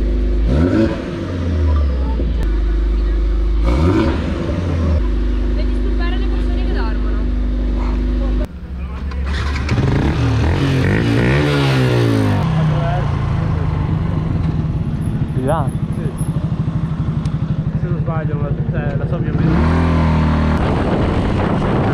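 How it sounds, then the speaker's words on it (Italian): A car engine revs hard in a couple of rising bursts, its loud roar and throaty drone filling the scene while people talk over it nearby. "Si possono sentire due sgasate della Verdona?"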